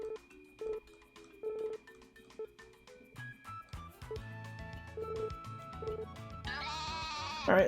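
A goat in Story of Seasons: A Wonderful Life gives a loud wavering bleat near the end, after several seconds of light melodic game music and chiming sounds.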